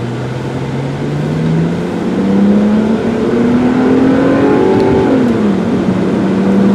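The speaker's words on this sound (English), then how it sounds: "Now, I was just stepping on the gas pretty hard, just so you can see it does shift nice and smooth" A black 2004 Suzuki Verona EX accelerates hard from inside the cabin, its engine note climbing loud and steady before it dips at a smooth gear change and rises again, with no talking.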